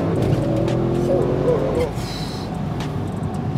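An Audi RS6 engine pulls hard after a downshift, a loud steady interior drone with a brief rise, while a person talks over it.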